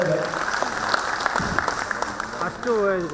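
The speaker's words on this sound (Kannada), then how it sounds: "ನಿಮ್ಮೆಲ್ಲರೂ ಜೋರಾದ ಚಪ್ಪಾಳೆ" Applause from an audience at the Karnataka Bhushana 2025 award ceremony, a steady patter of clapping under a speaking voice, growing louder toward the end.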